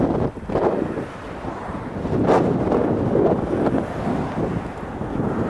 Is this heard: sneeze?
no